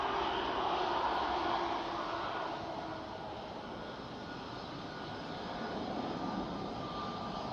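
A Canadian C-130 Hercules turboprop departs in storm wind, a loud, steady, broad engine roar that holds strong throughout, slightly peaking early and easing a little mid-way, with gusting wind noise mixed in.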